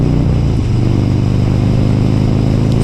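A Harley-Davidson Road King motorcycle cruises on a New Zealand road and eases off for a corner, its loud, close, steady engine rumble holding evenly throughout, no talking.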